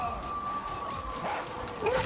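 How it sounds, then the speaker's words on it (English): Dogs in the video game Warhammer 40,000: Darktide give short yelping, whimpering barks over a steady game soundscape with a droning tone, growing slightly louder near the end. "What is happening to these damn dogs?"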